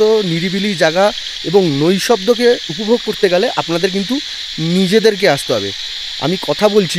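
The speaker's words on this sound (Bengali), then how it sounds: "যত সন্ধ্যা হচ্ছে আলো যত পড়ছে তত কিন্তু এই ঝিঝি পোকার আওয়াজ বেড়ে যাচ্ছে।" Dense, steady chorus of crickets at dusk around Dow Hill, a continuous high shimmer running throughout while someone talks close over it.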